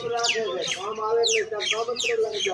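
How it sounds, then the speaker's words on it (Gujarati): Several birds chirp and twitter around a house on a morning outdoors, with bright repeated calls in quick succession, fairly near and continuous. "ચારે બાજુ બસ પક્ષીઓનો જ અવાજ છે."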